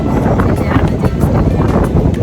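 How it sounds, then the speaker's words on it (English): Strong wind in Cartagena, Colombia buffets loudly and continuously, a dense gusting roar with no pauses. "It's super stinking windy"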